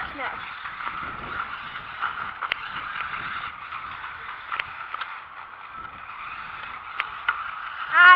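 A Tumbling Warrior RC car whines with a thin, steady high-pitched motor buzz as it pulls a wheelie and flips, with small clicks and bumps from tumbling and a voice talking over it.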